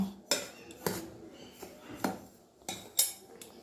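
A utensil clinks and scrapes against a bowl while batter for patishapta pitha is stirred with milk and salt. The strokes are sharp and irregular, about six close, distinct knocks with quieter scraping between them and no talking.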